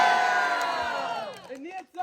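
A large crowd cheers and yells loudly at an outdoor flag ceremony for the 24th Lavang event, sustained and dense, fading near the end as a voice begins speaking.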